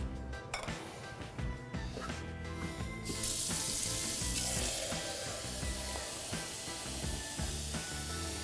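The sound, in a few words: water poured into a pan with millet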